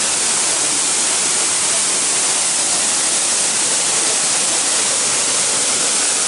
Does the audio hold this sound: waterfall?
yes